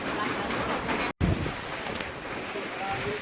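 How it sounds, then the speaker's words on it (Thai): Steady rain falls outdoors in a rural rice-growing area, a loud, dense hiss broken once by a very brief dropout. "แต่ว่าฝนตก ก็ตก"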